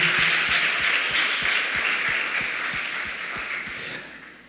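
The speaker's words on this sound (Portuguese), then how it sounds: "Dá um aplauso forte ao Senhor." A church congregation applauds during a worship service, a steady dense wash of many hands clapping, some individual claps standing out, with the applause fading gradually toward the end.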